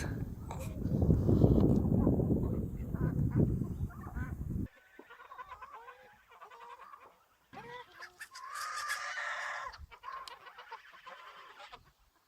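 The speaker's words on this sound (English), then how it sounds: "And they are a pair of barnacle geese." A pair of pinioned barnacle geese on a farm give loud, close honking calls, first a dense noisy burst and then several shorter bouts of repeated yelping notes with brief pauses between.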